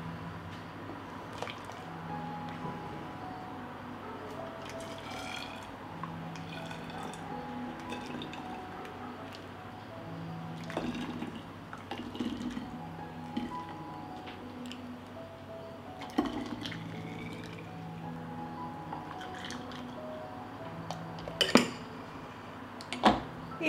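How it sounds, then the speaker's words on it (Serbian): Homemade juice is poured into sterilized glass bottles, a quiet trickle and drip with scattered clinks of glass and lids in a kitchen, no talk. "I sad ćemo sipati sok u flaše."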